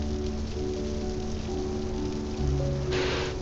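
Steady rain falls in a continuous even hiss, with a low hum underneath and a brief brighter swell near the end.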